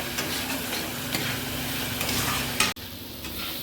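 Papda fish curry masala fries in a pan with a steady close sizzle and light scraping from stirring, ending in a single sharp clack of the utensil against the pan before the sound drops quieter.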